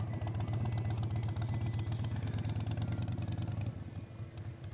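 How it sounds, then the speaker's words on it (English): A motorcycle passes nearby on an island street, its engine a loud rattling, pulsing drone that holds steady then begins to fade as it moves away. "we're gonna pause while this motorcycle goes by."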